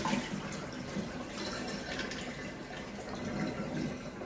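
Water pours and splashes steadily from a bowl while cleaning a striped bass, a continuous broadband rush, fairly faint, with no voices.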